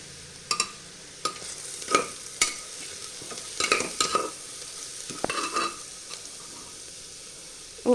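Onion and a pinch of turmeric powder sautéing in a pan for a potato-capsicum masala, with soft sizzle under irregular spoon scrapes and stirring knocks, a sharper clatter at the very end.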